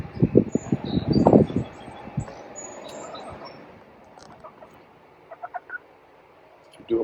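A hen clucks in short bursts while being turned over and handled for a 4-H poultry show, loud at first, then softer scattered clucks later on.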